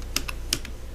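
Keys tapped on a computer keyboard while typing text in an online form, a handful of close, crisp clicks in a short irregular burst over a steady low hum.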